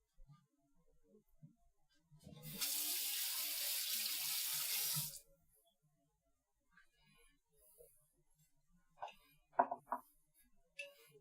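Kitchen tap water runs into a pan being washed, a steady gushing stream for about two and a half seconds that then stops, followed by faint clinks and handling noises.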